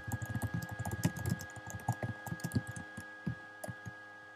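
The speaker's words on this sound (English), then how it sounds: "type something" Fingers tap on a computer keyboard in quick irregular runs of keystrokes, close and moderately quiet, with a faint steady tone underneath.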